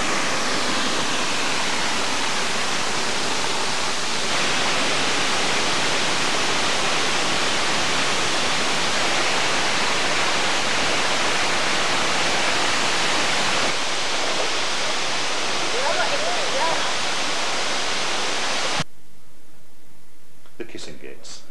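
A waterfall roars as a broad, constant rushing wash close by, steady and loud for most of the stretch before cutting off abruptly near the end, with voices talking over it.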